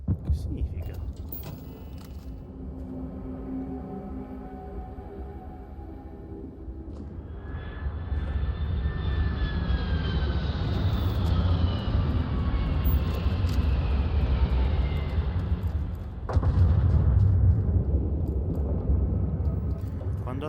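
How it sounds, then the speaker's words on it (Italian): A spaceship landing in the video game Starfield: a deep roaring rumble swells and holds with a descending engine whine, then a sudden heavy thump near the end, loud and continuous with no talking. "Quando atterrano gli astronavi sembrano delle esplosioni, cavolo."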